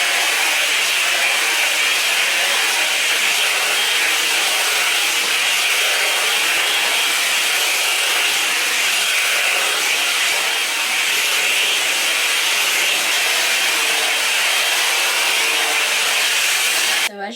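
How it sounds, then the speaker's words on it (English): Hair dryer blowing steadily and loudly on a body wave wig being straightened to bone straight, a constant broadband rush that runs unbroken for the whole stretch with no talk. "All I'm going to do is carry on blow drying."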